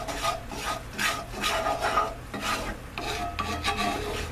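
A spoon rasps and scrapes steadily through creamed chipped beef in a pan, a close, continuous rubbing stir with rhythmic strokes and no talking.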